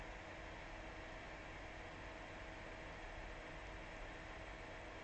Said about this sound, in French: Voilà, c'était le ventilo.